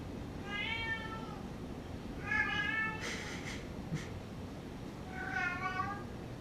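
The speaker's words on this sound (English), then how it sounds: "Quite a loud meow." A cat meows loudly three times in the background of an indoor yoga session, each call drawn out and spaced a couple of seconds apart, with a brief rustle between them and no talking.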